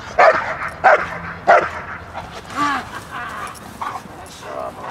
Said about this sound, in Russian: сейчас он так же лает